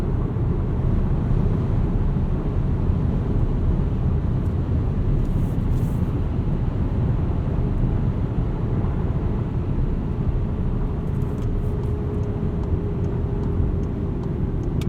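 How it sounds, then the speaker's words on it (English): Steady broadband rush of wind and road noise inside a 2017 VW Golf SportWagen 1.8T S 4MOTION at highway speed, constant and fairly loud throughout, with no talking. "A little bit of wind noise at speed here,"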